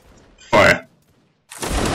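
A line of soldiers in a video game fires a musket volley: two loud, sharp bursts of massed gunfire about a second apart, the second one ragged and sustained.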